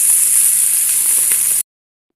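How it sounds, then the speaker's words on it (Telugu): Tomatoes frying in oil for a mint and peanut chutney, giving a steady bright sizzle that runs close and even, then cuts off abruptly partway through. "ఇప్పుడు ఇంక టమోటాలు అనేటివి బాగా వేగనివ్వండి"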